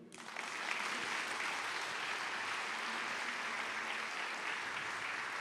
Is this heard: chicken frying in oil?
no